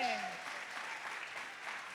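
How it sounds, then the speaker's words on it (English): Audience applause for Lisa Leslie and Azzi Fudd at a WNBA 30th-anniversary talk session, a steady, fairly close wash of many hands clapping that continues for the whole span, with a voice briefly heard over its opening. "Please join me in a huge round of applause for Lisa and Azzi."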